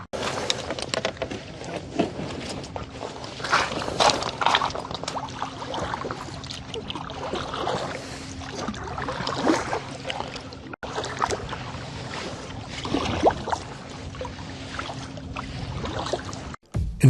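Kayak paddling along the west side of Wallace Island, soft repeated paddle strokes and water splashes at a steady rhythm, fairly faint and close, with light wind.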